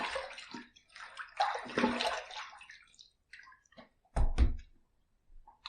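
Water runs and splashes in bursts as a razor is rinsed at a sink, with sloshing, a couple of sharp knocks and short gaps of quiet between.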